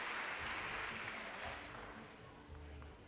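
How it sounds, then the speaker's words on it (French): Faint, distant applause at the final of a French amateur tournament in Nantes, a continuous wash of clapping that fades slightly toward the end. "On peut l'applaudir vraiment fort"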